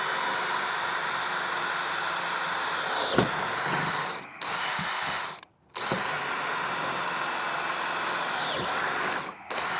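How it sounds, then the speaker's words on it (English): A power drill whines steadily and up close as it bores holes in a Hobie Outback kayak to mount side landing gear wheels. The whine stops briefly twice, and no one speaks. "I'm going to drill the third hole and the fourth hole accordingly."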